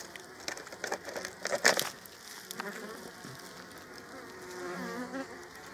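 Honeybees swarm aggressively around a beehive during winter hive maintenance, giving a dense, steady, close buzzing with brief rustling and crunching bursts near the start.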